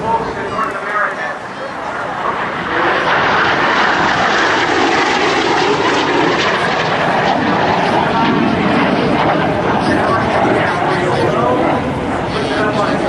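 A P-51 Mustang propeller fighter makes a low pass at an airshow, its engine a loud sustained roar swelling and holding, while a commentator talks over it.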